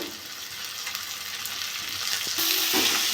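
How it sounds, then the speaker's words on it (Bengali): Spice masala with chopped tomato, cumin powder, Kashmiri chilli powder and salt sizzles and fries in oil in a pan, a steady close crackle that grows louder toward the end, with stirring scrapes and no talking. "মশলাটা কষে নেবো"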